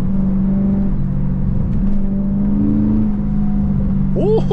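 Pontiac G8 GT engine revving under added throttle, a loud low drone rising and falling in pitch with a few swells, heard from inside the car with a brief voice near the end.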